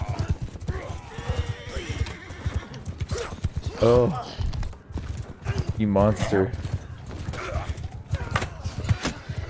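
A horse gallops and neighs during a multiplayer battle in Mount & Blade II: Bannerlord, with rapid hoofbeats throughout and two loud, shrill whinnies close by. Someone talks over the action.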